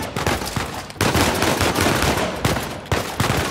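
Rapid bursts of gunfire in the video game Uncharted 4, loud and close, with several sharp volleys and blind-fire shots cutting through dense combat noise.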